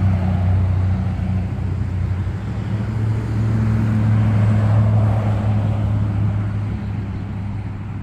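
Cars pass on a road near an RV park, a steady close engine and tire drone that swells and fades over several seconds, with no talk.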